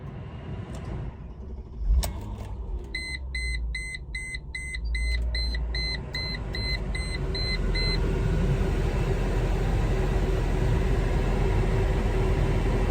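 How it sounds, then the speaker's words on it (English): A Mercedes G500 starts up: a quick crank catches into a rumbling idle while a series of dashboard chime beeps repeats, then the engine settles into a steady, louder drone as it drives off. "Here's a quick startup and driving video of the G500"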